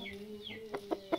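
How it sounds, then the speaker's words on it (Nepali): A chicken in a village clucks close by, three short clucks in quick succession after a brief, faint rising call. "कुखुरा कुखुरा यही कुखुरा छ"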